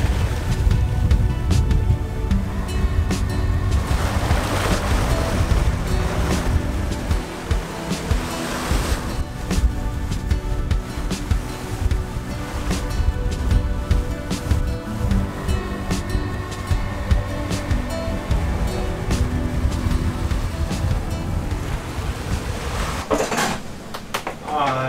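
A sailboat surging through Atlantic waves during an ocean crossing, with continuous loud rushing water and hull noise, rattling and clattering gear aboard, and occasional voices under the wash.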